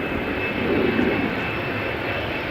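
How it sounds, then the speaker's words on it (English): An Embraer 190 jet departs Amsterdam Schiphol Airport, its engines a steady broadband roar swelling slightly then holding, heard at some distance with no voices. "Another Embraer 190 to Stavanger."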